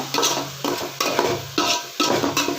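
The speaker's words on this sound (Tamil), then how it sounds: "நல்லா இந்த மாதிரி மிக்ஸ் பண்ணி விட்டுக்கோங்க" Country chicken masala for green chilli biryani is stirred in a pot; a spoon scrapes the pot in about five repeated strokes over a steady oil sizzle, close up with no talking.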